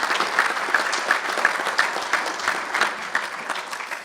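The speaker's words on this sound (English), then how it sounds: "So let's give them a nice round of applause." An audience at a high school athletic Hall of Fame ceremony claps in a dense, steady round of applause, many hands together at close range, sustained evenly throughout.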